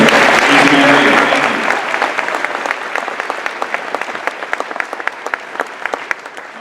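Applause from a high-school marching band concert audience starts loud and full, then thins into scattered individual claps that fade over the last few seconds.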